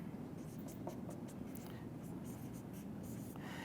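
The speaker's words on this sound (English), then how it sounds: "I'll just draw a little picture here of a tank." Hand drawing a simple sketch of a tank, probably with a marker on a board, gives quick close scratchy strokes in short runs under steady room noise.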